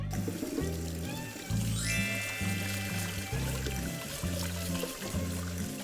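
Water pours steadily from a tap over cooked buckwheat noodles being rinsed, a continuous splashing stream with rhythmic thumps of music underneath.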